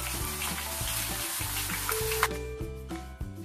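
Potato chips frying in hot oil, making a continuous bright sizzle with crackles over low, steady rhythmic background music; the sizzle thins out near the end.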